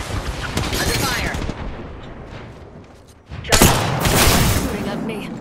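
Bursts of gunfire in an Apex Legends firefight, with rapid shots rattling early, then a lull before a louder cluster of sharp reports and echoing booms near the end, amid dense game noise.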